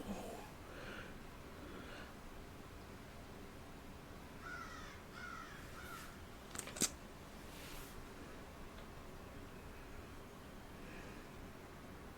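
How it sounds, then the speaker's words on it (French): A crow caws faintly from a distance, a couple of short harsh calls standing out against quiet room hiss. "On t'a entendu l'oiseau?"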